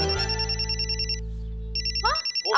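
A telephone bell rings in trilling bursts, two loud rings separated by a short gap over a steady low hum, with no one speaking.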